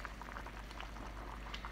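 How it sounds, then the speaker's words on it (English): Cabbage soup bubbling and boiling in a pot on the stove, a quiet, steady stream of small pops and gurgles heard close up with no talking. "It's bubbling and boiling real good."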